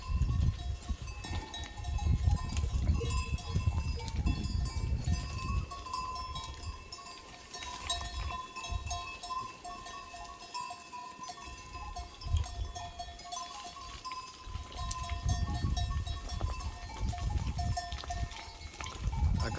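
Goats climbing a steep rock face in rugged mountain terrain, heard as a continuous outdoor scene with low rumbling, scattered hoof clatter and knocks, and faint intermittent bleats and bell-like tones.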